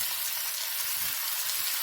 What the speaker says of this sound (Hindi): मैंने इसे अच्छे से भून लेना है ताकि जो चिकन की एक मखसूस स्मेल होती है, बू होती है, वो वेस्ट हो जाए